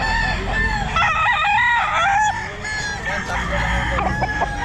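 A stag rooster crows repeatedly in harmonic bursts amid the clucking of other fowl at a busy outdoor pet market, fairly close and loud, over a bustling background.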